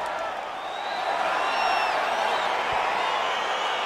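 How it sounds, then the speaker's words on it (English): Arena crowd in the UFC 4 fighting game on PS5 roars steadily as a bout begins, a dense, even wash of cheering and murmur that holds throughout at moderate loudness with no voices standing out. "My crowd getting excited as this fight gets underway"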